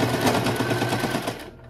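A sewing machine stitches denim for flared jeans, its needle running at a slow, even pace in a close, continuous rapid chatter that eases off at the end.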